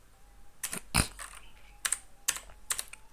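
Keystrokes on a computer keyboard entering text into Microsoft PowerPoint, a handful of crisp, close clicks in irregular bursts with quiet gaps between them.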